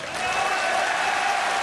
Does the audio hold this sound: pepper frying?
no